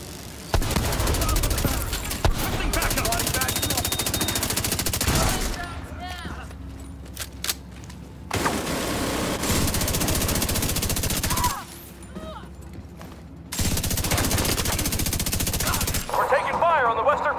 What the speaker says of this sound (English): We're taking fire on the western perimeter.